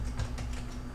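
Keys clatter on a computer keyboard as a command is typed into a Raspberry Pi terminal during a Klipper firmware upgrade on an Eryone Thinker 3D printer, a quick run of soft clicks over a steady low hum.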